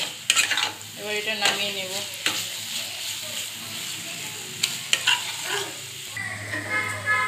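Bengali cabbage ghanto with garam masala and ghee is stirred in a pan, giving soft sizzling and intermittent scraping strokes, with someone speaking briefly over it.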